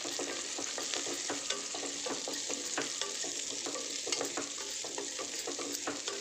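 Green peas and carrots sizzle and fry steadily in a pan for biryani, with scattered stirring scrapes over a constant dense hiss and no talking.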